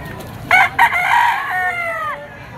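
A gamefowl rooster at a market crows once, close and loud, in a full drawn-out call that fades over about two seconds against low background noise.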